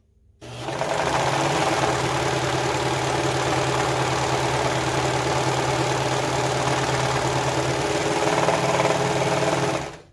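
A serger stitches hood and lining fabric together, running at a fast, loud, steady mechanical whir close by for about nine seconds before stopping, with no talking.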